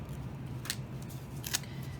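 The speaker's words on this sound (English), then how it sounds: "Have some scissors handy." Scissors cutting a strip of metal in two quick crisp snips, faint and close against a quiet low hum with no talk.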